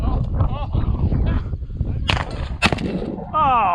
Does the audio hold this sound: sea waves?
no